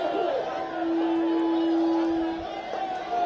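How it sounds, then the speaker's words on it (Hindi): A large crowd gathered for Amit Shah's BJP election road show in Ajmer, Rajasthan, producing a steady murmur of chatter and babble, with a voice talking over it. "बड़ी संख्या में यहाँ पर भीड़ भी जुटाई गई है बीजेपी की ओर से।"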